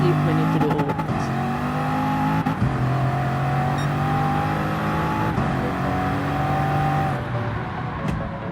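A Bugatti VGT race car in Gran Turismo Sport roars at high revs on a track, a loud, sustained engine drone that holds its pitch, then briefly dips as it shifts and climbs again.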